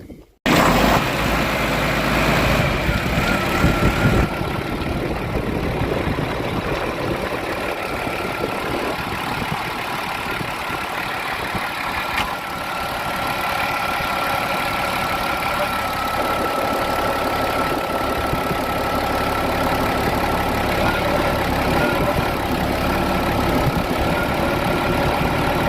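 A box truck or four-wheeler engine idles steadily nearby after work on a corn-planting setup, a continuous low rumble that holds level for the whole stretch with no talk over it.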